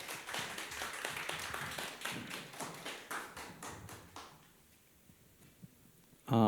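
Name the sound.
audience clapping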